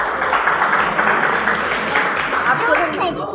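Steady crowd applause fills a short stretch at an Azadi Ka Amrit Mahotsav function at Govt ITI Damoh, dense and continuous throughout, with voices underneath.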